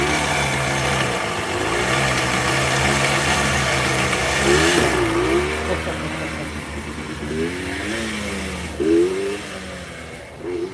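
A vehicle engine runs in first gear while driving, a steady mid-pitched drone with rising and falling revs and two brief surges, loud and close throughout with no talk.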